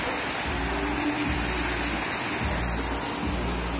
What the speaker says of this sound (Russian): Вот даже водопад.